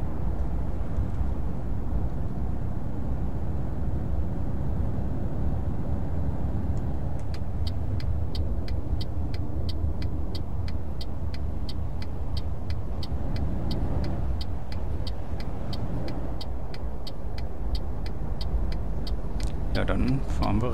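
Truck in Euro Truck Simulator 2 rolling along a road, a steady low engine drone running throughout, with a regular ticking indicator partway through and someone talking over it.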